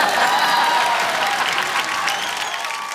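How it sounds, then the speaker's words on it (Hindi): A studio audience on a comedy show set applauds a guest, a loud, close, sustained roar of many hands clapping that tapers slightly toward the end, with faint cheering mixed in. "एक बार अभिषेक भाई के लिए जोरदार तालियां हो जाए।"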